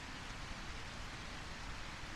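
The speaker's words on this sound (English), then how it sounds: "The rain helps me." Rain in the video game A Quiet Place, a soft, even hiss of falling rain heard alone and faint, holding steady throughout with no talk.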